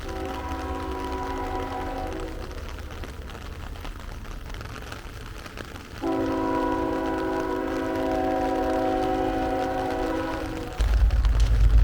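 A train horn blasts in long chords, pausing and sounding again, over the rumble and clatter of a train passing the Old Joliet Prison.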